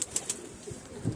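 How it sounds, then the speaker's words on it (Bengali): Pigeons at a home loft give soft, low coos beside a few sharp high chirps near the start, with quiet gaps between the calls. "এই যে দুটো পায়রা উড়ছে আমার"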